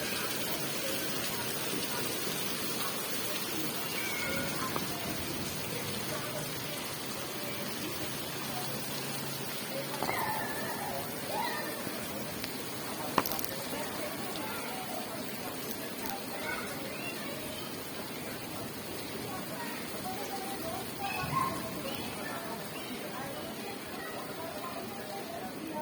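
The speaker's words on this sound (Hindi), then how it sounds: "ये देखो छत से पानी आ रहा है, बारिश हुई है ना तेज़।" Heavy rain falls steadily, with water pouring off a roof in a continuous wash and patter, while a voice talks over it.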